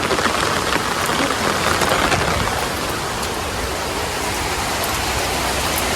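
Heavy rain pours down steadily on a rainy day, a dense, even roar of water with no break and no voices.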